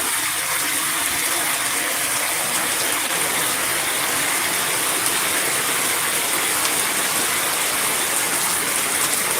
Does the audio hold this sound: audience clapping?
no